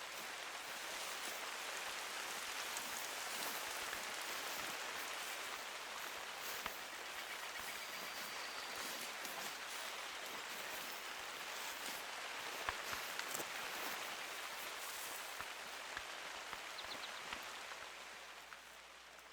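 Steady, dense rain pours down in theHunter: Call of the Wild, a continuous hiss of drops on the ground and foliage that holds at an even level throughout, with a few faint taps scattered within it.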